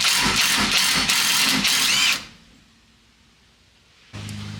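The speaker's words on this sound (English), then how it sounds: "my torque wrench only goes to 150, so I'm just gonna extra crank it" Power tool tightening lug bolts on a truck: about two seconds of loud, dense ratcheting buzz with repeated pulses, then a quiet pause and a renewed low mechanical hum near the end.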